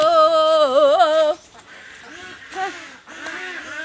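Loud, tonal honking quacks from ducks for about a second, then quieter scattered calls and a few more quacks nearby.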